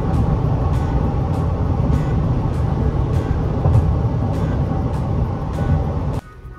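The big V8 engine of a 2020 Chevrolet Silverado 1500 LT pickup roars steadily as the truck accelerates hard, loud and continuous, then the sound drops abruptly near the end.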